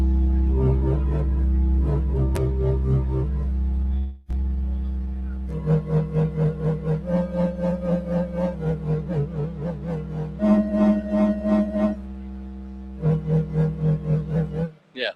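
Deep electronic bass tones pulse in a steady rhythm, with repeated synth notes shifting pitch in phrases, loud and up close, no talking.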